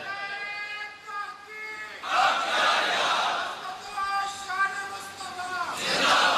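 A crowd at a religious sermon commemorating the Battle of Badr chants slogans loudly in unison, rising in bursts after a voice and filling the hall.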